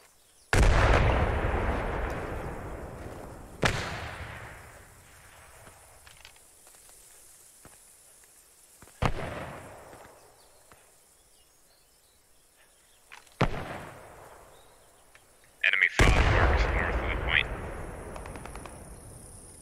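Strafing runs in Post Scriptum hit as a series of heavy, sharp blasts, five or so spaced several seconds apart, each a loud crack with a rumbling tail that fades into quieter battlefield background.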